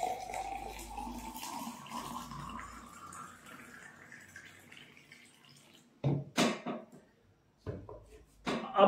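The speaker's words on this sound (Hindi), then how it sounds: "ऊपर से गर्म पानी डालते हैं," Hot water pours into a cup to make an Afresh energy drink, a steady trickle whose pitch rises as the vessel fills, followed by several sharp knocks and clinks.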